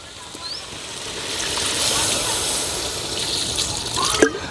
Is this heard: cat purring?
no